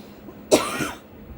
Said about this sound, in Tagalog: Ubo muna nga ako.